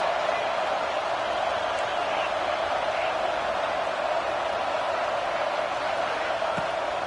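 Stadium crowd in a college football game, LSU at Clemson, roaring steadily behind the defense on a big third down, a broad continuous wash of cheering under a commentator's voice.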